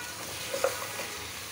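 A large rita fish head and bitter gourd fry with spices in a pan, giving a soft, steady sizzle with a brief clink of stirring in the middle.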